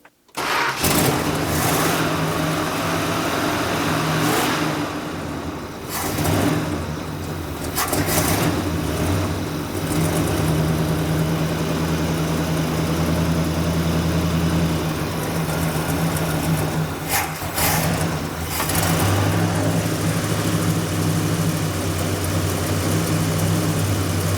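A long-forgotten Dodge Monaco cranks and fires up after years of sitting, then settles into a loud, steady, slightly rough idle that carries on close by with only small changes in pitch.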